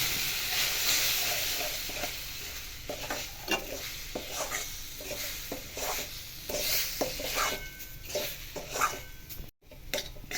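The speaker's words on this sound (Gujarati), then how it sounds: "જુવારના લોટને શેકતા જવું." Sorghum flour is stirred and roasted in a pan for laddus, a constant soft sizzle and hiss broken by repeated scraping strokes of the spoon, close and steady with no talk.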